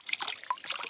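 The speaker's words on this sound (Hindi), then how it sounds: "ये देखिए स्रोत पानी का" Water trickles from a natural spring uncovered by digging on a hillside plot in the mountains, a soft, close, steady dribbling with a faint splash partway through, no talk over it.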